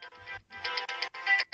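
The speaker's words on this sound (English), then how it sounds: "Sorry, I'm hearing someone's phone." A mobile phone rings somewhere in an online meeting, its tone pulsing in short repeated bursts with brief gaps, faint and distant.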